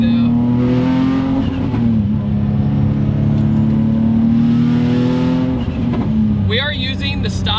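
A 540 hp single-turbo Nissan 350Z HR with stock CD009 transmission pulling hard in third gear, a loud, close engine drone rising steadily in pitch, briefly dipping at a shift, then turbo whooshes and chirps near the end.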